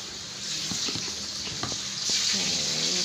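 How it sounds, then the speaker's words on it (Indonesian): Tempeh frying in oil in a busy home kitchen preparing a large food order, a steady close sizzle with occasional light clinks and stirring, growing slightly louder. "Dan ini Budi lagi goreng tempe belum selesai."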